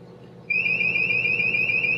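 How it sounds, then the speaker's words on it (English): A 3RCI warning system runs its alarm test, sounding a steady, loud electronic tone that begins abruptly about a quarter of the way in and holds continuously over a low background hum. "So I'm going to press it now. Alarm test"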